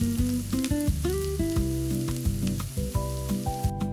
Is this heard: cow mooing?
no